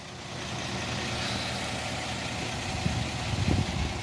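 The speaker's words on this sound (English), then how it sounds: "360 horsepower MAN engine, Euro 6 compliant" A 2016 MAN 19.360 Beulas Cygnus coach with a 360 horsepower Euro 6 MAN engine idles close by, giving a steady low rumble that thickens slightly toward the end, with no talk over it.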